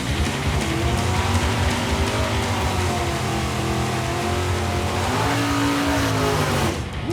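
A 1966 Chevy Chevelle with a 700-something lift cam revs hard and loud close by, its engine note rising and falling with steady harmonic layers for about seven seconds before cutting off.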